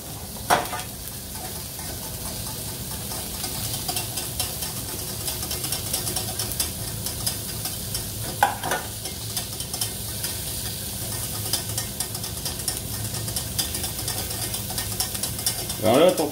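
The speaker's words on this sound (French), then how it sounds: "je continue de monter ma sauce" Water-based sabayon for a goat cheese emulsion whisked continuously in a pan, a steady, busy scraping hiss with a fast rhythmic texture throughout, and a few brief louder knocks.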